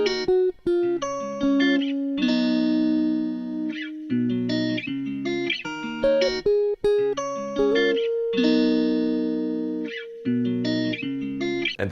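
Electric guitar with an effects-processed tone plays a sparse top melody of sustained single notes layered over strummed chords, with a steady rhythm and clear pauses between phrases, loud and close with no talking.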